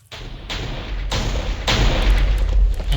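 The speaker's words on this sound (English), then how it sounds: "it will activate every single mortar that is in this relay" Mortars in a Minecraft CityCraft build fire in a rapid series of loud, deep thuds about every half second, the booms stacking into a rumbling barrage.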